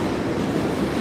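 A J subway train rumbling across the Williamsburg Bridge at night, a steady broad roar of rails and wheels, loud and continuous for a brief moment with no voices.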